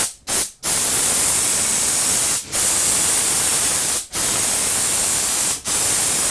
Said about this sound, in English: Now it's spraying just fine.